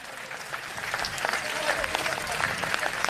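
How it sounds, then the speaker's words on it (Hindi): An audience at a Jain religious gathering claps steadily and densely throughout, loud and close with crowd murmur mixed in. "आप दोनों हाथ उठाकर तालियां बजाइए"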